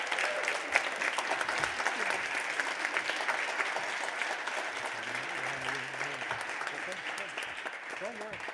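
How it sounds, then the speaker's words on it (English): An audience bursts into sustained applause, a dense wash of clapping with scattered cheers, while a voice speaks faintly underneath toward the middle. "Would you please give them your appreciation by giving them a great hand of applause."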